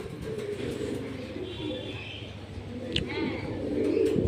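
Pigeons kept on the upper floor of a two-storey pet shop cooing steadily in low murmurs, with faint chirps and a brief clatter partway through, under a voice talking.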